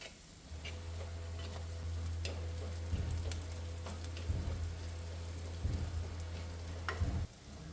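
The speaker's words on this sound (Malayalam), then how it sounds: "കുറച്ച് കറിവേപ്പില ഇടാം ഇനി ഇതൊന്ന് മൂക്കണം കേട്ടോ ഈ ഉള്ളിമുളകൊക്കെ ഒന്ന് മൂത്ത് വരണം" Curry leaves, onions and chillies fry in a pan for a Palakkad-style chilli dish, making a soft, continuous sizzle with scattered crackles and pops over a low steady hum.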